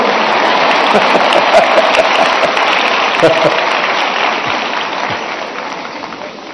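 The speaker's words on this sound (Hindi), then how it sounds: "देखो आपकी पसंद की बात आई तो ताली बजाते हो आप लोग" A large audience claps together at the Pariksha Pe Charcha 2024 event with PM Narendra Modi, a dense rain-like patter of many hands that runs steadily and slowly fades, with someone speaking over it.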